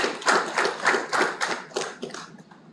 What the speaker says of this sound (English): Can we give an applause?